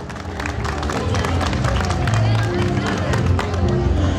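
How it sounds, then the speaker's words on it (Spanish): Crowd applause at a Cruz del Calvario festive gathering, dense, continuous clapping with cheering and babble of many voices mixed in, loud and close. "El aplauso correspondiente"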